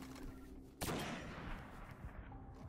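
Gunfire in the sci-fi shooter Destiny: a sharp, loud sniper-style shot bursts in about a second in, followed by a rumbling tail and busy game ambience.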